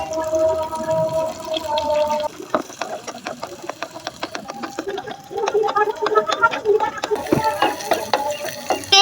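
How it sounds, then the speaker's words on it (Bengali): An egg is poured into a hot pan of frying eggplant, giving crackling, popping sizzle with scattered sharp spatters and the scrape of stirring, close and fairly loud. "তো এবার ডিমটাকে ঢেলে দেব।"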